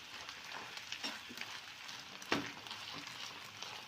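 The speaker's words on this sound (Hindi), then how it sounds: "बहुत ही हमने इसको अच्छे तरीके से भूनना है कि आलू का जो एक कच्चापन है, आलू का कच्चा जायका है वो ख़त्म होना चाहिए" Grated potato halwa frying and being stirred in a pan, a soft steady sizzle with light scraping and stirring clicks and one sharper clatter midway, quiet and close.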